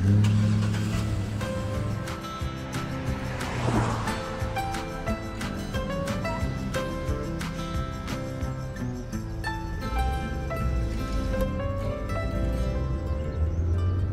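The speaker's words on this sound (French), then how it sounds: "Je vais conduire en ville et tester la voiture" A cartoon police car drives through town, its engine hum carried under busy, steady cartoon music that fills the whole stretch without pause.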